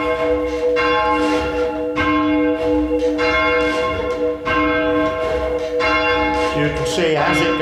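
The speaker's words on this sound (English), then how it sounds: "as we go up, it's now striking on both sides of the bell" A swinging church bell at Yatesbury being rung up, struck on both sides as it rises, giving a loud, steady series of resonant strokes with long ringing overtones and a brief clatter near the end.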